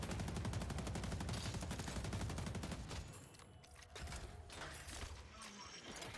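A turret in the hero shooter Deadlock fires rapid automatic bursts, a dense, rattling stream of shots for a few seconds, then fainter, scattered firing and game sounds.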